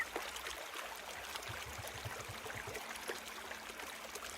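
A swift river rushes with a steady, broad hiss of flowing water, constant and fairly quiet, with faint low gurgles and no voices.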